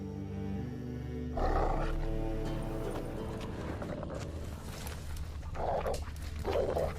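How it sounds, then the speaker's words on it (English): Dogs in The Witcher 3 video game growling and snarling in low, rough rumbles over a droning ambient game backdrop, with a couple of louder bursts near the end. "Just beware of the dogs."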